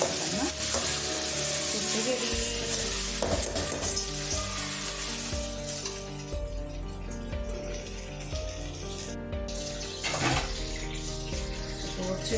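Ginger, garlic and chili powder sautéing in a pan for shark puttu, a loud continuous sizzle with stirring scrapes and clinks throughout, occasional bursts of running water nearby.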